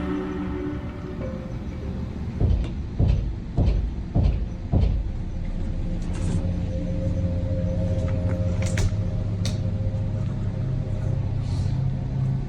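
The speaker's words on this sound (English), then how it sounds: "The alarming sound of knocking was coming from his closet." Knocking from inside a closet: a quick run of about five loud, evenly spaced knocks, then a low, steady rumble with a few faint higher clicks. No one speaks.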